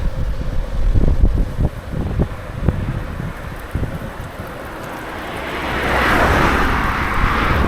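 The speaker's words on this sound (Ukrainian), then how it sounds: "Ого, а тут вітер розгрався" Strong wind buffets the microphone during a bike ride outside Kyiv, rumbling and gusting, with scattered thumps early on and a rising rush of air toward the end.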